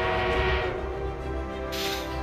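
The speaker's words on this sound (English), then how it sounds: "We are being reinforced with an armored train." An armored train arrives in Battlefield 1 on the Amiens map, with a steady low rumble and a sustained tonal horn or whistle holding throughout. A brighter hiss rises near the end, and no one speaks.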